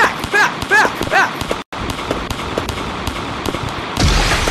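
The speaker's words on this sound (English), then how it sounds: "I'm getting shot at." Gunshots ring out in a chaotic video game firefight, a few sharp cracks scattered amid busy, clattering game noise, with a brief dropout midway and a louder burst near the end.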